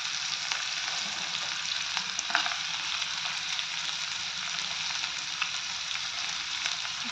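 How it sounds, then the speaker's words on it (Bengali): Pea curry frying in a pan hisses in a constant, close sizzle, with occasional soft scrapes and clinks from stirring. "নাড়াচাড়া করে দিতেছি।"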